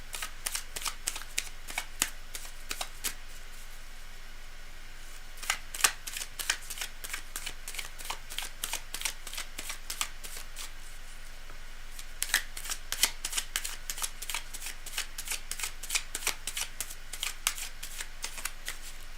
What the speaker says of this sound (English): We've got to do a fair bit of shuffling here.